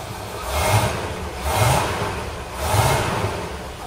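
A V8 car engine running on petrol, misfiring, revs up three times in a slow rhythm with a rough, uneven throb between blips, heard close with no talking.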